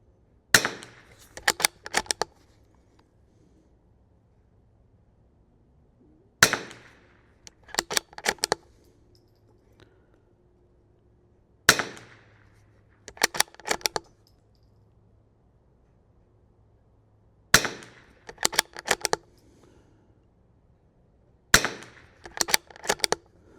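A Bergara BMR-X .22lr rimfire rifle fires at an outdoor range in five spaced bursts, each a sharp crack followed by a quick string of clicks, with quiet stretches between bursts.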